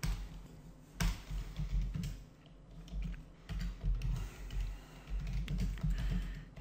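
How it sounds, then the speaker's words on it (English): A computer keyboard is typed on while entering PHP database connection code: bursts of close, clicky keystrokes with short pauses between runs, with no voices. "So let's type here."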